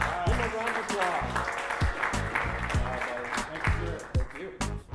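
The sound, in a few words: applause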